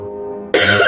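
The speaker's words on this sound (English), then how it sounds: "Excuse my coughing." A single harsh, dry cough bursts out loudly and close after a quieter stretch of low hum, from a person struggling with a dry throat in the morning.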